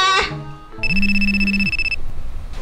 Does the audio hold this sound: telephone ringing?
yes